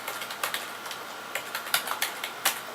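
Keyboard typing of a search query into Google, scattered soft key taps at an uneven pace, close and fairly quiet over a steady background hiss, no voices.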